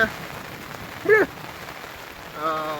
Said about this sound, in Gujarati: વરસાદ હજી ધોધમાર ચાલુ જ છે